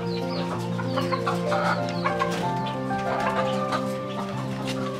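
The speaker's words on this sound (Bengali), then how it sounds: "তো এখানে আছে অনেক সুন্দর সুন্দর পাহাড়ি অঞ্চলের মুরগি এগুলো" Hill-region chickens on a rooftop farm cluck steadily and close by, a busy flock murmuring and calling throughout with overlapping bursts and no talk.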